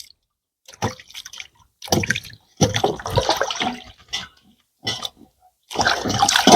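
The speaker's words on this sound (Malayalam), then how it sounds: "ശരിക്കും മണ്ണും കാര്യങ്ങളും ഒന്ന് വൃത്തിയാക്കി രണ്ട് മൂന്നാല് ഒന്ന് കഴുകി നല്ല അടിപൊളിയാക്കി എടുക്കാം" Sweet potatoes being scrubbed clean of soil in water, with a series of short, close splashing and sloshing bursts separated by brief pauses, then a longer stretch of washing at the end.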